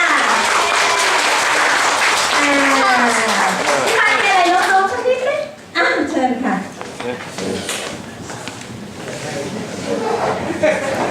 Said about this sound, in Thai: เสียงปรบมือให้พี่มาร์ทค่ะ